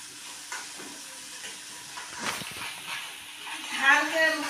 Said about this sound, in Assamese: এয়া আদা পেষ্ট এচামুচ দি দিছোঁ ভাজি ল'ম